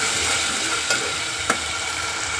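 Masala fries in hot oil with a constant close sizzle, broken by two or three scraping stirs of a spoon in the pan for a spicy chawli bean curry.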